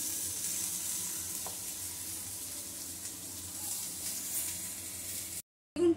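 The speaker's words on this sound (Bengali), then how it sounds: "এখানে বেগুনটাও আমি একটু ভেজে নিয়েছি" Brinjal fries in oil in a pan with a steady, close sizzle that carries on throughout, then breaks off abruptly near the end, followed by a short, louder burst of sizzling.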